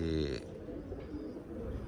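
A female pigeon coos softly at a loft, a low, faint murmuring call heard close under steady background noise.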